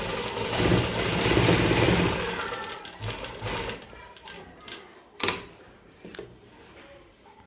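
A sewing machine runs in a steady burst while stitching a kurti neckline over buckram, then continues in short, irregular runs with pauses and a sharp clack between them.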